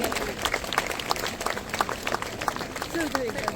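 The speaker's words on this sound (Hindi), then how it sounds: "इधर इधर भी जोरदार तालियों के साथ हम लोग उनको आदर और सम्मान प्रकट करें।" An audience at a historic Christian fair gathering applauds a chief guest with brisk, dense clapping that is loud and sustained, with a voice speaking over it.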